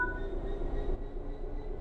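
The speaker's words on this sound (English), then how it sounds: "Apply some throttle to get the train moving." A diesel locomotive in the Train Sim World game throttles up and pulls away, a steady low engine rumble with faint higher mechanical tones running evenly throughout.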